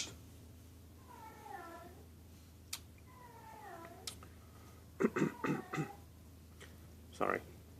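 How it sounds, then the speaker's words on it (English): A house cat meowing indoors, several drawn-out wavering meows that are fairly quiet, followed by a few louder short sounds and a brief burst near the end, over a low steady hum. "my cat's just, unfortunately, going through that phase"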